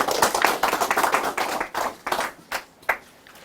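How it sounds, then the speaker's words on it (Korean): A small audience at a breakfast meeting claps to welcome a speaker, close and distinct handclaps in uneven bursts that thin out and trail off toward the end. "여러분 큰 박수 부탁드립니다."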